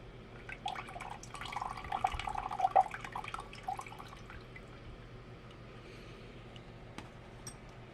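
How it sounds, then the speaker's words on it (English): Aqueous magnesium chloride solution is poured into a waste beaker in a chemistry lab, a faint trickling splash for a few seconds that fades into quiet room noise. "pour the solution into an appropriate size waste beaker"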